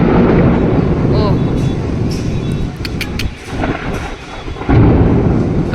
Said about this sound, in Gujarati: કડાકા થાય વીજળીના.